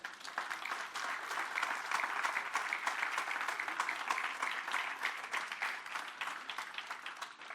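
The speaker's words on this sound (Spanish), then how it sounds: "Dale un aplauso al Señor ahí" A church congregation applauds the Lord during a Spanish-language sermon, brisk rhythmic clapping at a moderate distance, sustained and fairly even with a slight swell in the middle.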